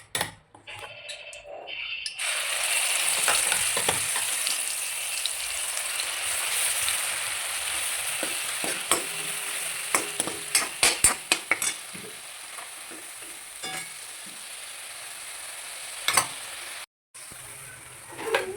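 Ground masala paste frying in hot oil for a Bhogi vegetable dish: a steady, close sizzle sets in after a quiet start and runs throughout, dotted with sharp clicks and scrapes from stirring.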